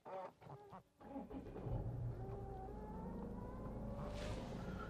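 A Jaguar diesel engine cranks and catches after a keyless push-button start, then settles into a loud, steady, gruff idle close by with no one talking.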